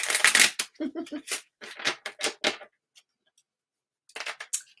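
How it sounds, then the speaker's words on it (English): Deck of angel cards being shuffled: a series of quick, close riffling and flicking bursts in uneven clusters, a short pause, then another brief shuffle, with no talk over it. "look at our angel cards all shuffled up here"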